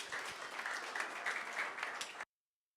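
A church congregation at a Sabbath service applauds to welcome a speaker, giving steady, moderately distant clapping that runs for about two seconds and then cuts off sharply into silence.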